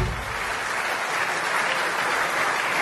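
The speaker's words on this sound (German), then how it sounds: "nochmal für euch nochmal Klatsche" Dense, steady applause from a carnival crowd at a music-filled festival gathering, loud and continuous without a break.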